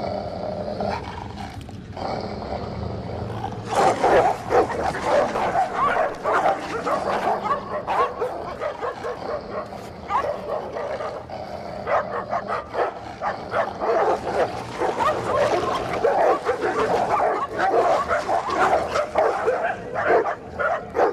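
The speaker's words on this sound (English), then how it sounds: "The battle for top rank is now between two of the most imposing breeds, the Rottweiler and the Pitbull." A Rottweiler and a Pitbull fight close by in a tangle of deep barks, snarls, growls and yelps that carries on almost without a break.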